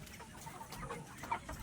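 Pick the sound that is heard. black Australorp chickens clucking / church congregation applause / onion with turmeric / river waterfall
black Australorp chickens clucking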